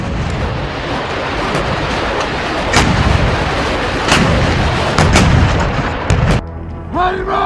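Heavy towed howitzer artillery fire by the Ukrainian army, loud repeated booming reports over constant wind-like rumble, sharp blasts recurring every second or so, ending with a brief faint voice.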